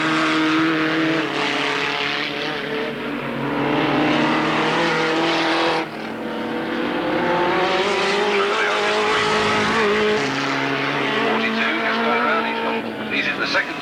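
Race cars lapping the Alwalton racing circuit, engines droning and shifting pitch as they pass, fairly loud and continuous, with a commentator's voice over the PA running underneath.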